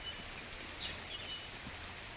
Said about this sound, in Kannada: ತುಂಬ ಜೋರು ಮಳೆ ಬರ್ತಿದೆಯಪ್ಪ